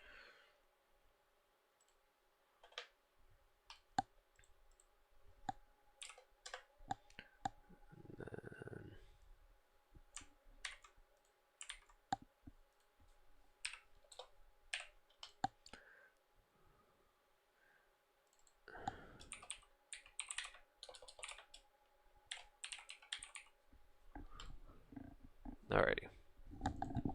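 Scattered bursts of clicky typing on a computer keyboard during a plugin-coding live stream, close and fairly quiet, with pauses between runs of keystrokes and occasional talk and sighs.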